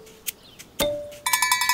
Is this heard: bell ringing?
yes